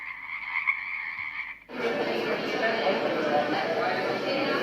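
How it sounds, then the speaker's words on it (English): Echoey frogs croak in a chorus for about a second and a half, then a loud, steady white-noise hiss takes over and continues to the end. "It's frogs. But what's interesting about it is it sounds like echoey frogs"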